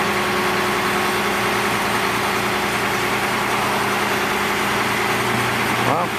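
A Mack truck engine idling while the tall machine is loaded onto a trailer, a steady droning rumble with a constant pitch that holds close and loud the whole time.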